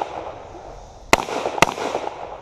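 Two sharp shotgun shots fired at clay targets on a moving-and-shooting course, loud and close, about half a second apart over outdoor background noise.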